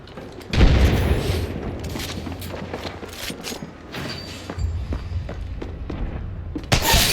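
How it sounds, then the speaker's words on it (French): A grenade blast in a battle royale shooter game: a loud, deep boom bursts out near the start, followed by rumbling gunfire and further thuds, with another sharp impact near the end. "À couvert, grenade."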